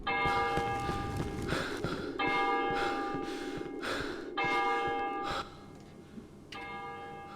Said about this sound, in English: this church bell, Rumpel recorded himself